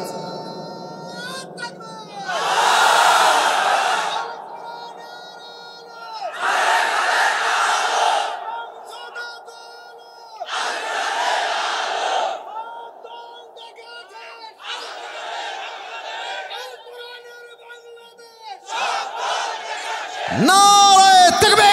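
A crowd at a religious sermon gathering chants slogans in loud call-and-response bursts, answering a voice with four or five roaring shouts separated by his calls, close and forceful.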